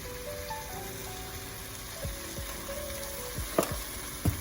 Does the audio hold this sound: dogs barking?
no